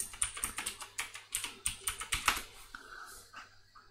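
Someone types a password on a computer keyboard while joining Windows 10 to a domain, a quick run of about a dozen close, crisp key clicks that slows and fades near the end.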